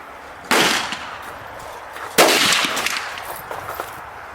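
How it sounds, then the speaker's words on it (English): Two loud AR rifle shots crack at an outdoor shooting range, about two seconds apart, each trailing off into a short echo. "You want to shoot a few more AR rounds?"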